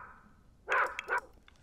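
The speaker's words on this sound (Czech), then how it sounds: "někdo někde štěká" A dog in The Sims 4 gives two quick barks, fairly close and clear over a quiet background.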